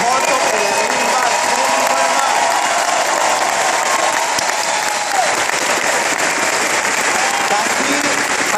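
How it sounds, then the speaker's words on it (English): Loud, dense applause from a large standing crowd at a VIP Super Saturday event in Atlanta, sustained without break and mixed with some cheering and crowd noise. "I want everybody to stand up and give it a big applause"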